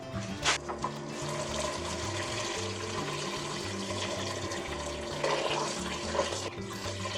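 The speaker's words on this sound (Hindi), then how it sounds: "नमक जो लगाया था उसको अच्छे से वॉश कर लेंगे।" Salted bitter gourds are rinsed in water for stuffed karela with qeema, giving a soft, steady splash and trickle like a running tap and sink, with a few louder swishes near the start and toward the end, no talk.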